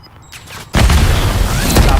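A grenade detonates in a Battlefield 3 match, a sudden loud boom that cuts in after a quiet moment and leaves a dense, rumbling roar of debris and gunfire-like crackle rolling on.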